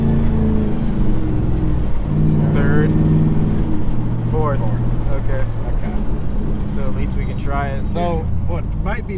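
Shop truck engine drones steadily and loud throughout, with rising and falling tones as it shifts up through the gears, under intermittent speech.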